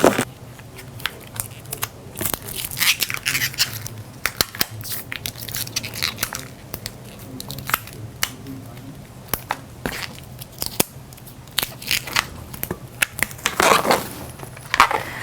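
Scissors snip through an inflated latex balloon while a balloon figure is being made, with a run of sharp clicks, rubbery squeaks and crackles close up, no talking.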